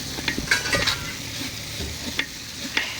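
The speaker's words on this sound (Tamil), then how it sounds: "நல்லா 4 பக்கமும் கிண்டுங்க" Meat for a large batch of Christmas biryani, about 2.5 kilos, stirred in a pot over high heat, with scraping strokes and clanks of a spoon over a steady low sizzle, no voices.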